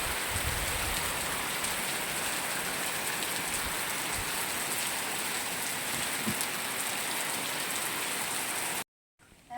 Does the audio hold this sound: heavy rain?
yes